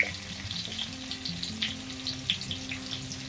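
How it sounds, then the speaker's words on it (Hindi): Thinly sliced medium onion fries in hot oil with a bright, steady crackling sizzle, close and continuous, dotted with small pops and a faint low hum beneath. "अब इसमें डाल देते हैं प्याज, हमने 1 मीडियम साइज की प्याज लिया था जिसे हमने पतला पतला सा स्लाइस कर लिया"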